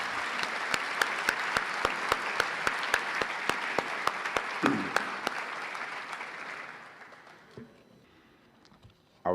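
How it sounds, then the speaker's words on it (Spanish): Audience applause for the organizers at a closing session of an Ibero-American university rectors' convention, sustained crowd clapping with sharp rhythmic claps cutting through, tapering off and fading to near quiet by the end. "Un aplauso les pido para los grandes organizadores"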